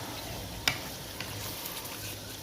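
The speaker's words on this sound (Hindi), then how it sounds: "चिकन को अच्छी तरह से इसके अंदर हम भून लेंगे" Chicken frying in a pan for chicken karela, a soft continuous sizzle with one sharp crackle and a few faint pops, heard close and steady with no voices.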